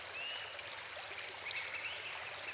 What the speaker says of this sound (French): votre ami le ruisseau jaillit en déferlant ses perles mélodieuses